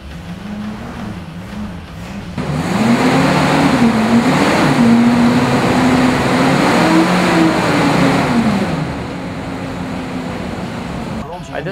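A 1966 Ford Mustang convertible engine runs with a rising and falling whine over a steady hum, swelling for several seconds before settling back to a softer idle, while a voice talks over it.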